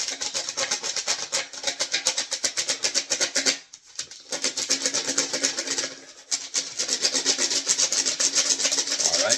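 A black crayon scratches steadily across a surface in fast, dense rubbing strokes, close and fairly loud, with two brief pauses before the scratching resumes.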